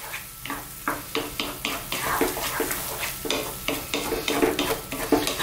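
Meatloaf mixture with ketchup stirred in a pan, a steady run of soft scraping, squelching strokes with a light sizzle underneath, fairly close and evenly paced.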